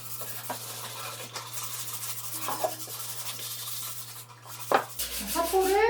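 Sandpaper rubbed along the grain of wooden boards for a DIY treasure-box furniture project makes a steady, close scratchy rasp of repeated strokes, with a brief tonal sound near the end.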